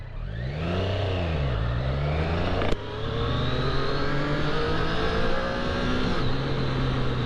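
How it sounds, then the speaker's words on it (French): A 2018 Triumph Street Triple 765 R three-cylinder motorcycle accelerates in road mode on a street, its engine revving up in rising sweeps with a sharp gear change partway through before pulling on strongly and loudly. "première petite accélération"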